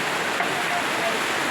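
Heavy rain pours down on a farm where a carabao stands, a dense, loud, unbroken hiss of water filling the whole scene.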